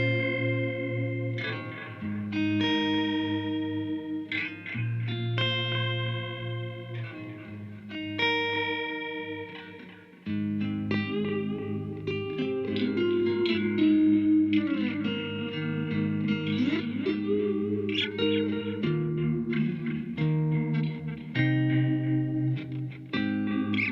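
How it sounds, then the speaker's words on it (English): Electric guitar plays through a Helix Stadium XL delay with chorus and the depth turned up, in an indie and dream-pop style. Chords and melodic phrases swirl and waver for nearly half a minute, with echoing tails and no talking. "With the chorus setting,"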